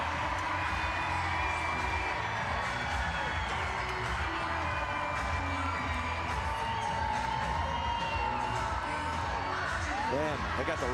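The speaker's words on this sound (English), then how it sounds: "Like, I can't even focus right now with this crowd." A volleyball arena crowd cheers and roars steadily at a pro volleyball match between the Omaha Supernovas and Vegas Thrill, a loud, dense wash of whoops and shouting with a commentator talking over it.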